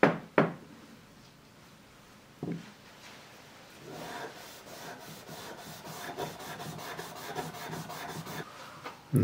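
Scotch-Brite pad scrubbing a surface by hand, no sandpaper or grit used: a soft, steady rubbing that starts after a couple of sharp knocks and builds into repeated back-and-forth strokes, close and moderately quiet, with no talking.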